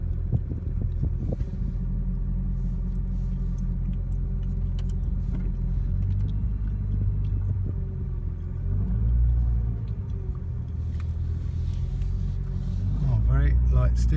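A 2016 Nissan GT-R NISMO N-Attack being driven, heard from inside as a loud, continuous low engine and drivetrain rumble with rough grinding undertones, and a voice talking over it.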